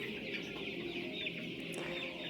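Chickens on a poultry farm in Rodi Kopany, Homa Bay County, Kenya, cluck softly in a continuous, fairly faint chorus, with no voices present.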